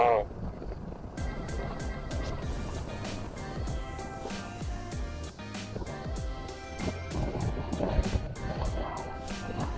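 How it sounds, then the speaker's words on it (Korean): Strong wind blowing hard on the microphone outdoors, a constant rumbling buffet broken by sharp intermittent crackles and pops throughout. "바람 많이 분다."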